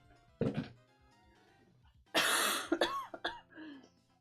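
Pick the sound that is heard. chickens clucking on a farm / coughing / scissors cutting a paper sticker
coughing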